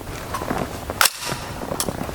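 Single sharp rifle shot of M193 ammunition from a 20-inch barrel fired at a body armor plate, one loud crack midway through with background noise around it.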